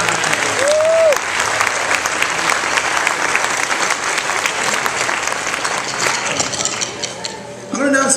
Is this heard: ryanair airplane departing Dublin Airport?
no